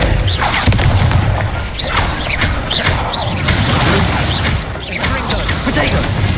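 Spell-casting effects from the Hogwarts Legacy video game, with a fire spell bursting into dense, continuous booming and crackling blasts amid swishing magical whooshes, loud and sustained throughout with game action layered over it.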